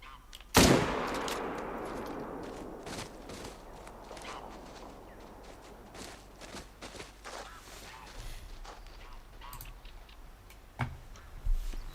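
A single loud hunting-rifle shot fired at a whitetail deer in a hunting video game cracks out near the start, then fades into quiet outdoor ambience with faint soft steps and small ticks.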